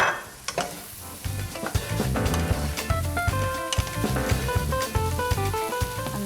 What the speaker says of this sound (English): on high heat we're going to put our mushrooms in. And our onions. Give that a good stir and cook it for about 1 minute.